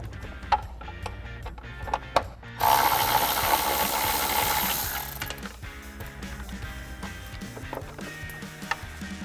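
A ratchet with a Torx bit backs out T25 screws behind a bracket on a Jeep Wrangler JL. A few scattered clicks lead into a loud, steady ratcheting run of about two and a half seconds, then quieter clicks and handling noise.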